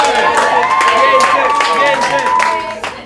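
Pub crowd in Talkeetna, Alaska claps and cheers loudly for a diner who finished a giant burger, with shouts and whistles over dense continuous applause that tapers off at the end.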